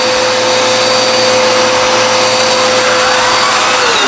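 Dirt Devil Endura Max vacuum cleaner running with its attachment tool, a loud steady motor whine with a constant high tone, held close and unchanging throughout with no talk.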